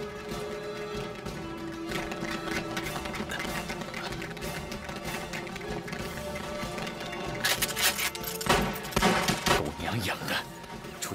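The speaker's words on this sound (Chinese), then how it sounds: "等等，铁虎他们听到枪声，应该很快就会过来。" A burst of rapid gunfire sounds in a kung fu action film set during a fight with Japanese agents. A dense, rattling fusillade runs throughout and grows louder and sharper near the end, over film score and ambience.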